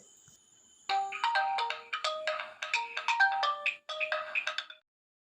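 An electronic phone ringtone plays a bright, fast melodic phrase for about four seconds, clear and alone, then stops.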